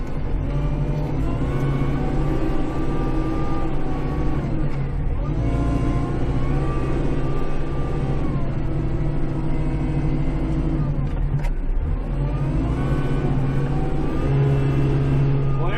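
A heavy tractor engine runs steadily nearby in a garage during snow clearing, a loud continuous low drone that swells slightly as it revs now and then.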